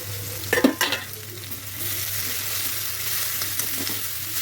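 Garlic and curry leaves sizzle steadily in hot oil in a pan, opening with a few close scraping stirs of a spoon and then frying alone at a soft, even hiss.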